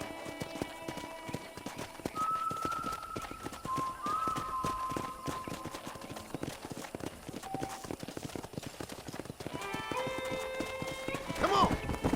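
Horse hooves clip-clopping on a ranch in Red Dead Redemption, a steady rhythmic patter of hoof falls heard throughout under ambient game sounds, with a voice talking over them.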